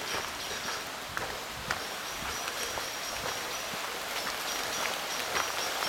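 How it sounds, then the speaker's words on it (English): Steady rain patters down at night along a river path in an Irish glen, a continuous hiss of drops with faint crunching footsteps mixed in, even and fairly quiet throughout. "the rain's starting to get a little bit heavier"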